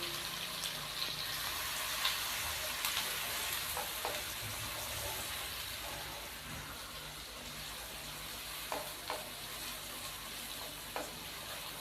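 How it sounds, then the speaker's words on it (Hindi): Chopped onions frying in hot oil for a carrot and pea sabzi, a soft, continuous sizzle with occasional sharp crackles and pops scattered over about twelve seconds, fairly quiet and unbroken by speech. "अब मैं इसके अंदर 2 अदद प्याज शामिल करूंगा जिसको मैंने चॉप कर लिया था।"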